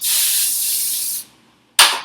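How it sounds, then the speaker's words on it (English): Cooking spray hisses onto loaf pans in one long, loud burst lasting over a second, then after a short pause a second quick spray. "So for the loaf pans, I'm just going to spray 2 of them down"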